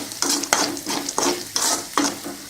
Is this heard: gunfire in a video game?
no